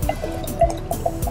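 Wine glugs and trickles into a glass in a few short, close pours with small liquid splashes, heard alone.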